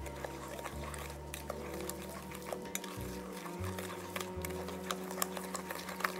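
Pumpkin brownie batter gets stirred in a bowl, producing a soft, steady scraping and swishing with occasional light utensil clinks over a low background hum.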